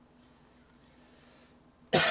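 A single sharp cough from someone losing their voice, bursting loudly at the very end after near silence.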